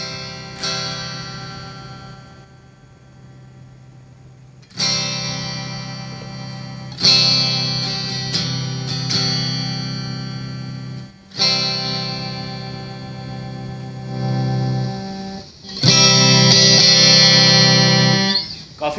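Fender Squier electric guitar played through a Blackstar 20W amplifier, several strummed chords ringing out with distortion and chorus, each sustaining and decaying before the next, loud and close with no talking.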